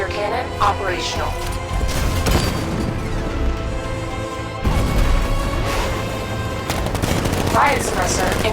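Tank cannon fire in the Batman: Arkham Knight video game, loud repeated blasts and rapid bursts of gunfire over game music and effects, with a sharp surge midway.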